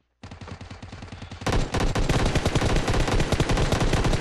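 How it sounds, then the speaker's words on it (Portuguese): Gunfire in PUBG Mobile, a fast automatic burst starting fairly close, then turning louder and denser into a continuous rattle of shots. "Alguém atirando na gente."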